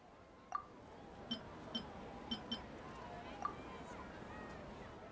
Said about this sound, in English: each day in this samsara only ends at the sound of that beep from the Akasha